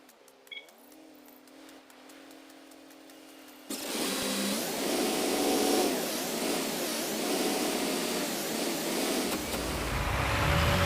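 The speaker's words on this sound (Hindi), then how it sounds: "तो अभी हम जल्दी से उस ट्रैक्टर को लेके चलते हैं" A tractor in a farming video game drives along with a steady, loud mechanical engine drone that starts abruptly after a few seconds of near silence and holds constant without speech.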